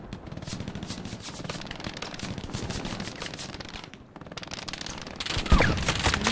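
Machine gun fire in the Hell Let Loose war game, rapid rattling bursts from nearby guns crackling steadily over a gritty battlefield background, with a sharper, louder burst near the end.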